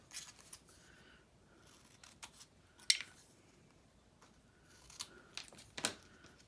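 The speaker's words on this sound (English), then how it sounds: "I might just cut this here." Scissors cutting paper for collaged card tags, a series of crisp, close snips and slicing strokes in irregular bursts, with quiet gaps between cuts and no talking.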